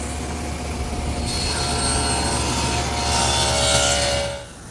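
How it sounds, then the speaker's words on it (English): A table saw cuts a rabbet into wood stock for a shelf, sounding as a loud, steady motor whine that rises in pitch and intensity as the blade bites, then drops away at the end. "Now I'll make the rabbet over on my table saw."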